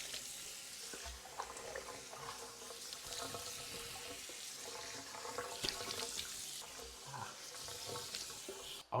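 Tap water runs steadily nearby while a face is rinsed during a shaving and skincare routine, with soft splashes and hand movements over the constant flow and no talking.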